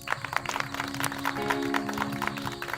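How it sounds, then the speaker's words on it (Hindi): Group clapping for a boy named Arun, praised for his batting and catches, heard as a dense, fairly close burst of applause that swells and continues without speech. "अरुण के लिए फिर से एक बार तालियां"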